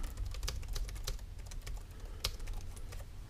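Rapid, uneven keystrokes on an FL Studio computer keyboard by EditorsKeys, a chiclet-style board, clatter in close, crisp clicks with no talking.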